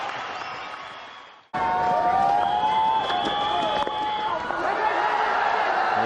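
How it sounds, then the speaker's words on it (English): A cricket crowd at the 1999 Sharjah Cup final between Pakistan and India roars and cheers, loud and sustained, briefly cutting out before surging back at full volume with a commentator talking over it. "So big cheer from the crowd."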